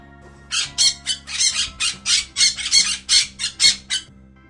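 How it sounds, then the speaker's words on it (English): A parrot squawks in a rapid series of about a dozen loud, harsh, evenly spaced calls, close and alone. "P for parrot."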